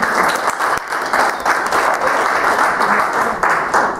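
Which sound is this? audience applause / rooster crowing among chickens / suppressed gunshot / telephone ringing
audience applause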